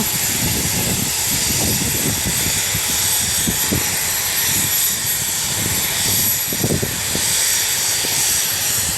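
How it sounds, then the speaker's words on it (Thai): A diesel railcar express, train No. 71 on the Bangkok Apiwat to Ubon Ratchathani run, departs Ayutthaya station with a loud, steady engine drone and low rumbling throbs that hold for the whole stretch, with no voices. "ขบวนรถด่วนที่ 71 กำลังจะ เตรียมออกจากสถานีอายุทยาแล้วนะครับผม"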